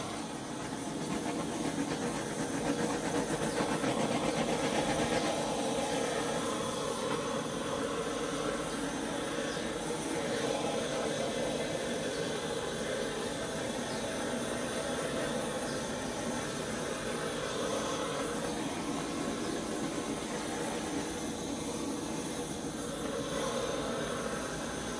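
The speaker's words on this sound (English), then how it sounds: "I'm gonna give it one more go with the heat gun" A heat gun blows steadily and loudly throughout, a continuous broadband hiss and roar with no break, used while making a large oval flip drag and blow piece.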